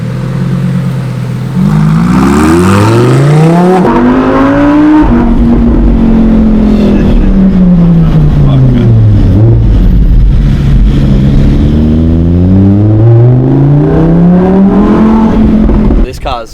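A Lamborghini Huracán Evo engine revs loudly and close, its pitch climbing and falling in repeated sweeping surges and dips that hold high through a sustained, aggressive roar.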